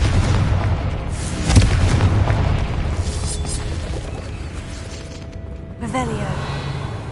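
A Confringo fire spell exploding in the Hogwarts Legacy video game, a burst and boom around the middle and another impact later, layered with game sounds and voices over a continuous background.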